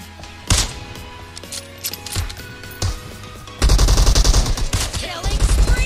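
Kar98 rifle shots in PUBG Mobile team deathmatch: several sharp cracks spaced about a second apart, then a dense burst of rapid overlapping gunfire, with game sounds throughout.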